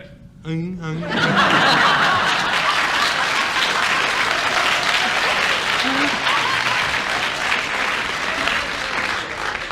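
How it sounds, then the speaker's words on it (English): A studio audience at a radio panel game breaks into loud, sustained applause with scattered chuckles, after a brief bit of speech at the start. "the audience applause means that they agree with your challenge"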